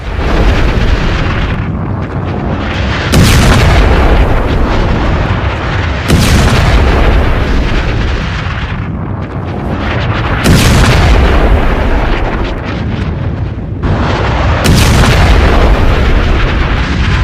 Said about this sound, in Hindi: नेतन्याहू एक एक कर गोले दाग रहे थे